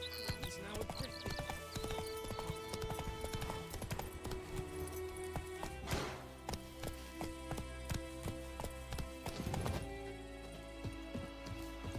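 Roach, Geralt's horse in The Witcher 3, galloping with rapid, loud clip-clopping hooves, close and continuous over game music and ambience, with a brief rushing swell midway.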